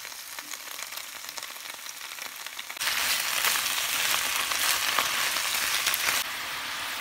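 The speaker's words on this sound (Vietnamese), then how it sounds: "Tiếp đến thì mình xào rau cải" Mustard greens stir-fry in a hot pan with a steady sizzle that jumps louder partway through, likely as more greens hit the oil, then settles slightly, with no voices.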